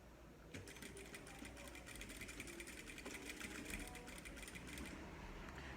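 Sewing machine running steadily as it stitches a dish towel, a continuous close whirring hum of rapid needle strokes that starts just after the beginning and carries on without pause.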